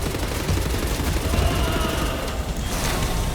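Dense, continuous gunfire from The New Order game, a rapid rattling barrage that stays loud and close for a few seconds with no pauses.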